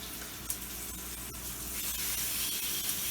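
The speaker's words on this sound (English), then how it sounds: "I'm going to cook it with the skin side down. I'm going to fry it up like that." Skin-on, bone-in chicken thighs fry skin side down in a pan, giving a steady close sizzle and hiss with a few faint pops and scrapes.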